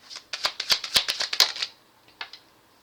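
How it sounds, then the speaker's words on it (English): Playing cards being shuffled by hand, a quick run of crisp riffling snaps and flutters lasting about a second and a half, then a couple of softer taps, close up and fairly quiet. "I'm going to shuffle this time."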